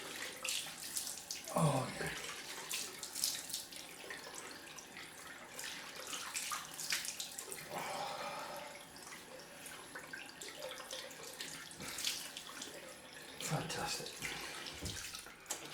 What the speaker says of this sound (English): I love that cold rinse